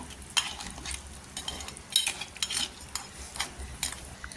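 Crab curry cooks in a pot over a high gas flame, with soft bubbling and sizzle broken by sharp, irregular scrapes and clinks of stirring, fairly faint and close, with no voices.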